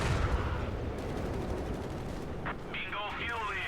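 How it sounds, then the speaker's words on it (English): Mortar fire in a video game: a continuous dense rumble of explosions and gunfire. A sharper burst rises near the end, loud and close throughout. "There goes a mortar half crack."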